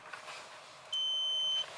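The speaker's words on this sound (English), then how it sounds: "That's beeping, that means it's getting voltage" A circuit tester on an RV water heater's 15 amp circuit gives one steady, loud electronic beep lasting under a second, rising above quiet background noise.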